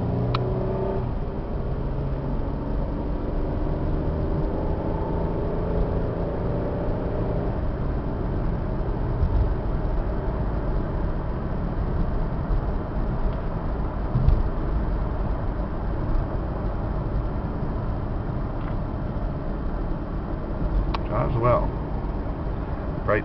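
A 2007 Dodge Caravan cargo van with a six-cylinder engine rolls along the road, its steady engine hum and road rumble running without a break while someone talks over it.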